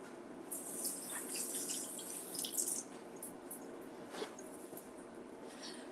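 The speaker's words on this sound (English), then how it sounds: "Rinse these off." Blackberries rinsed under a running kitchen tap, a soft continuous stream of water with light splashing and spatter, close but quiet.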